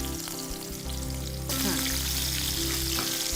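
Cubed onion for a sweet and sour chicken gravy goes into a hot pan and sets off a loud, close sizzle that swells and holds steady under a voice.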